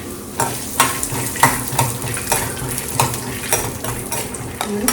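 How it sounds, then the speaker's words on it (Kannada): Peanuts fry in a pan of oil while being stirred, giving a steady close sizzle broken by regular scraping and clinking strokes about once a second as a utensil moves through them. "ಫಸ್ಟ್ ಬಾಣಲಿಗೆ ಒಂದು ಸ್ವಲ್ಪ ಎಣ್ಣೆ ಹಾಕ್ಕೊಂಡು ಈ ಕಡಲೆ ಬೀಜ ಇದೆಲ್ಲ ಶೇಂಗಾ ಇದೆಲ್ಲ ಶೇಂಗಾ ಉಳ್ಕೊಳ್ಳೋಣ"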